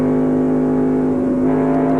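NASCAR Super Truck engines, Ford and Dodge trucks testing at Homestead in 1995, hold a loud, steady droning tone with a slight waver partway through.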